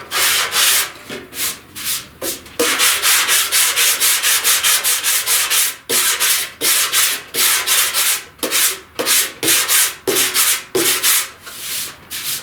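Sandpaper sands body filler on the front fender of a 1969 C10 truck with light pressure, making a loud, close rasping in steady back-and-forth strokes with brief gaps between passes.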